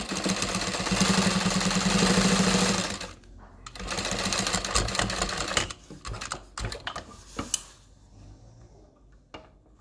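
A sewing machine edge-stitches a tote bag at an eighth-inch seam allowance with a long stitch length, running in two steady loud bursts before breaking into shorter, stop-start runs and clicks.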